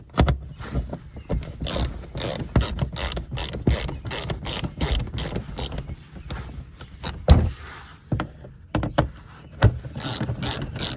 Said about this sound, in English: We will need 14mm socket to remove these bolts, screws.